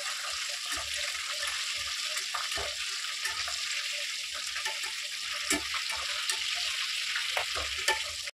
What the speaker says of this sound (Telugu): ఇదిగోండి ఇదే ఆయిల్లో ఈ పచ్చిమిరపకాయలు ఇట్లా వేసుకొని ఇట్లా ఫ్రై చేసుకున్నామండి లైట్గా